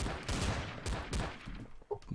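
Gunfire from a Garry's Mod Trouble in Terrorist Town round comes as several dense, fairly faint bursts of shots, with a few sharper individual reports spread over a couple of seconds of game noise.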